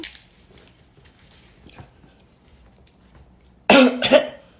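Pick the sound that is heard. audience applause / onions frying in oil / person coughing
person coughing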